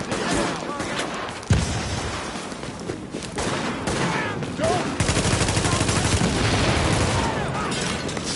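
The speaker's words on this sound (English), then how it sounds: "You just keep shooting like that." Sustained video game gunfire in Tom Clancy's The Division on PS4, a dense run of rapid shots and bursts with a sharp blast near the start, loud and continuous over the whole stretch with voices in the background.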